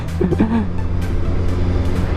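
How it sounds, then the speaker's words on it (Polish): A heavy truck rolls past on a road, its low engine drone and tyre roar swelling nearby and holding steady for a couple of seconds. "A, tira obok słyszę."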